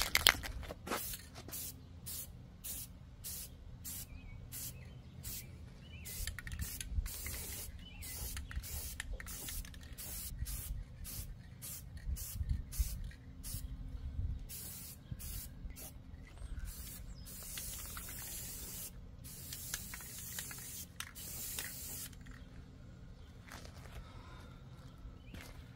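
Rust repair coating is sprayed onto a truck's cab corners in short repeated bursts of aerosol hiss, with creaks and handling noises between them, fairly faint and close, with no voices.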